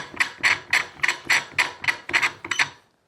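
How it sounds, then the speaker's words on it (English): A threaded MB3 TBD post is turned down onto its 3/4 inch thread into a Nill paver bracket, making a regular series of about ten sharp ratcheting clicks, close and evenly spaced, with no talking. "We simply screw this into the bracket below"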